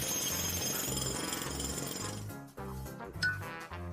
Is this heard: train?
no